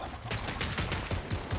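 Weapon reloading in Fortnite: a quick run of mechanical clicks and clacks from the game, close and moderately loud over a busy background.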